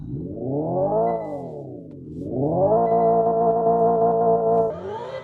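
A synthetic electronic hum from a Hyundai Ioniq 5 N electric car's active sound system sweeps up, dips, then holds a steady futuristic tone before shifting pitch near the end.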